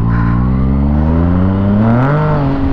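A Yamaha MT09 motorcycle engine revs loudly up close on a test ride, its tone climbing steadily then dipping briefly before rising again, no talking heard.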